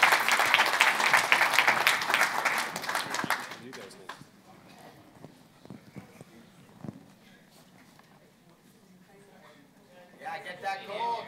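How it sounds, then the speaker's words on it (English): An audience at a house-flipping seminar gives loud, dense applause for a few seconds, then it fades into scattered claps, shuffling and murmured talk, and a brief burst of cheering comes near the end. "Let's give these guys a big round of applause."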